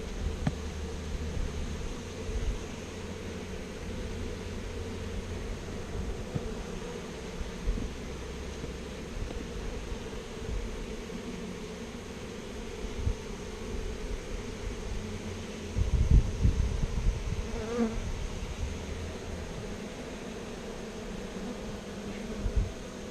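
A honey bee swarm buzzes steadily in a dense, close drone, with occasional rustling and handling sounds over the constant hum.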